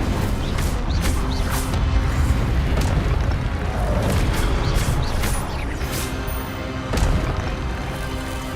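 Incendio fire spell cast repeatedly in a Harry Potter video game, loud booming bursts and crackling blasts following each other in a dense, continuous battle din.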